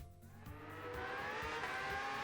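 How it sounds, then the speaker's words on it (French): X2019 race car engines roar in Gran Turismo 7 at Trial Mountain, a loud sustained engine tone rising in pitch as the cars accelerate, with no talk. "on entend le bruit des moteurs de la X de 2019"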